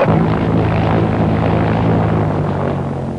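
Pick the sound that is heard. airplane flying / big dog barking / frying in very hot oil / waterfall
airplane flying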